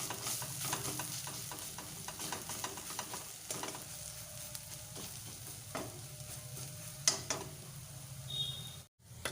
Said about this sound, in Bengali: আবারও কিছুক্ষণ ধরে উল্টো পিঠটা ভেজে নেব।